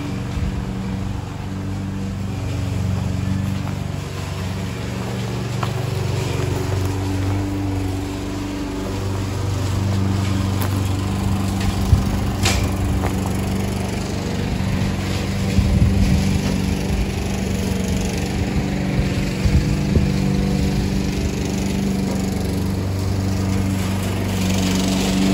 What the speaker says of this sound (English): So right now all we have is a hand mower.